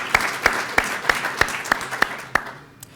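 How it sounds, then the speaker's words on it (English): Rhythmic clapping at an internet service launch event: eight sharp, evenly spaced claps about a third of a second apart, fairly close and crisp, then trailing off into quiet room sound. "We're going to keep clapping all day."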